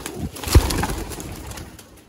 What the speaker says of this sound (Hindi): कबूतर नीचे उतर है